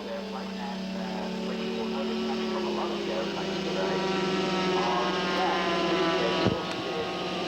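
A scale model airplane comes in to land and brakes, its engine giving a steady, buzzing harmonic drone at moderate distance, with a brief sharp thump near the end.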